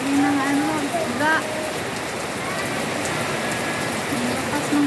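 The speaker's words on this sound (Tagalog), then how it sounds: "Ang lakas ng ulan." Heavy rain pours down during a typhoon, a dense, unbroken hiss of downpour beating on surfaces, with a voice faintly audible beneath the steady roar.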